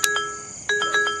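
A phone rings early in the morning in a Telugu movie scene, short electronic ringtone tones sounding in a couple of bursts, close and clear with no talking.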